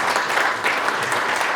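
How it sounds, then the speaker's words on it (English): Audience clapping at a local government conference as the DDP team is recognised: a thick, even wash of many hands applauding at a steady level for the whole short stretch. "So I would like you to give them a round of applause."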